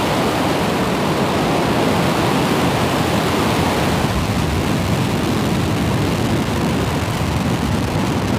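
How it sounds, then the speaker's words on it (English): A SpaceX Falcon 9 rocket lifting off, a continuous thunderous broadband roar that stays loud and unbroken, with no voices over it. "Ignition. And liftoff of Falcon"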